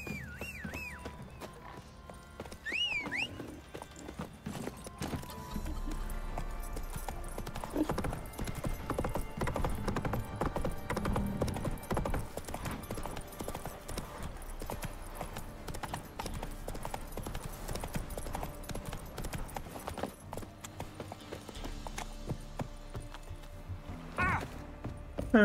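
Roach the horse in The Witcher 3 clip-clops at a steady walking rhythm, hoof beats continuing throughout alongside game ambience and a brief whinny-like tone near the start, no talk.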